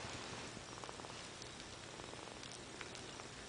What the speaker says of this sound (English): Oh, you can hear her purring.